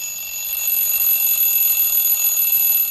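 A bright, steady electronic alarm-clock style ringing tone in a podcast intro jingle fills the whole clip, loud and continuous with high-pitched tonal lines, no voices.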